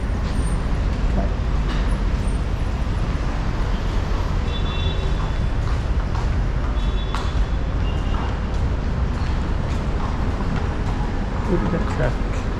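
Dense city street traffic in Manila near the Mall of Asia area rumbles on continuously, with buses, cars and trucks passing close by and occasional air-brake hisses. Someone talks over the steady loud roadway noise.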